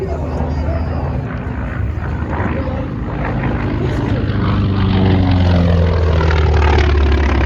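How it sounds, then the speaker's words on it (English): A Grumman Avenger torpedo bomber's propeller engine drones loudly at an outdoor air show, a deep, steady roar that swells slightly as it passes, with a voice talking over it. "The Avenger. Replaced the Dauntless Devastator as the U.S. Navy's primary torpedo attack."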